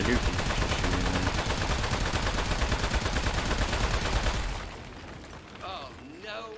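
Sustained rapid shooting in the video game Aperture Desk Job, a loud continuous burst of gunfire that stops abruptly, leaving background game sounds and talking voices.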